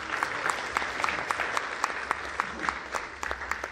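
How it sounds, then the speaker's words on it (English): A church congregation claps together in steady, sustained applause during a service, with occasional sharper individual claps standing out. "let's give the Lord a hand clap of praise today"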